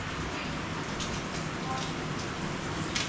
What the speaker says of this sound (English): a lot of rain outside right here now